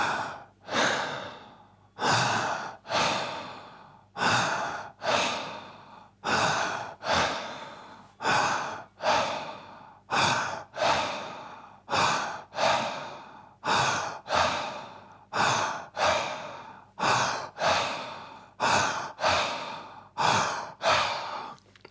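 Deep rhythmic breathwork fills the stretch, each long forceful inhale followed by a sighing exhale, repeating steadily about every second and a half, close and loud with no talking.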